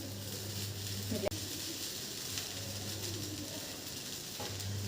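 A cooked lilva (pigeon pea) kachori filling is stirred in a pan. A steady hiss plays over a low hum, with one sharp knock of the utensil near the start and soft scraping movements.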